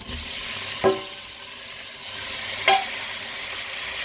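Tomatoes frying in a pan while cooking red cowpea rice: a steady, even sizzle runs throughout, broken by two sharp utensil taps a couple of seconds apart.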